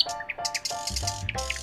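A red bird chirps in quick, bright tweets and short trills, several calls in rapid succession, close and clear with no speech.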